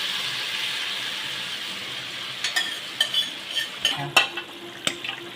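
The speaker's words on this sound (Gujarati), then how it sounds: "ગ્રેવી એકદમ ઉકળી ગઈ છે તો હવે આપણે એની અંદર આ જે બધો ગવાર છે એ નાખી દઈશું" Cluster beans going into boiling gravy in a pan for Kathiyawadi guvar vadi shaak, with a steady bubbling sizzle joined midway by a series of close stirring scrapes and knocks.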